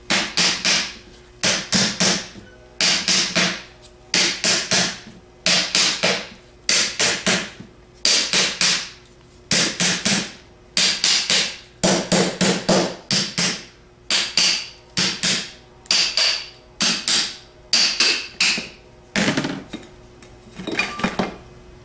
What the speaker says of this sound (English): tap the front half off with a hammer by tapping at 180 degree intervals